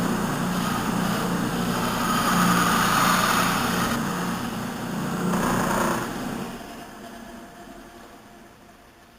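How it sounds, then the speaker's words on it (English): A bandsaw trims a custom mandolin part to shape, its steady whirring drone swelling with the cut and then easing off toward a quieter idle. "that's what we're doing right now on the bandsaw"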